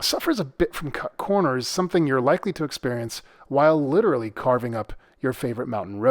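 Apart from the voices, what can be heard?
None of the usual background noises is heard.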